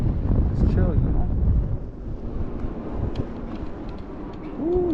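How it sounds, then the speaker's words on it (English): Wind buffeting a microphone outdoors in New York City during a snow storm, low rumbling gusts rising and falling across the clip, close and fairly loud, with faint street noise underneath. "Ooh, you feel that wind."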